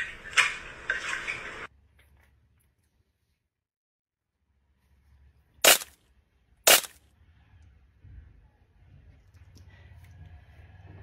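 An egg cracks with two sharp, close snaps about a second apart, set in near silence after a short burst of noise at the start.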